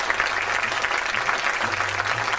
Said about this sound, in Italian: mi unisco a voi per l'ultimo applauso alla compagnia del Carnival Garcia Show